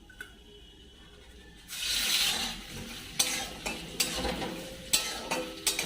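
Crab dropped into hot oil in a home kitchen, erupting into a loud, steady sizzle and crackle, with intermittent metallic clinks and scrapes of a spatula stirring the pan.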